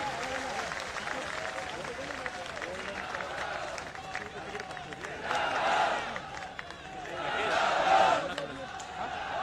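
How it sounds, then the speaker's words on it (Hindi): An audience at a Jaipur event applauds to welcome Ashok Gehlot, with steady clapping and crowd noise that rises in two louder bursts, under a general hubbub. "इसके लिए मैं चाहता हूं आप शानदार तालियों से माननीय अशोक जी गहलोत का सत्कार करें"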